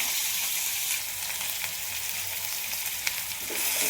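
Curry leaves and finely grated onion sizzle in a hot mustard-cumin tempering for a spicy soybean curry, a steady bright crackle of oil with occasional stir clicks, no voices.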